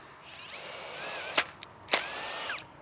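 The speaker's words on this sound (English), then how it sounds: "just drill a hole straight through and back the Tek screw out." A power drill driving a Tek screw into a greenhouse board, its motor whining and rising in pitch, with two sharp clacks as the bit bites, close and loud.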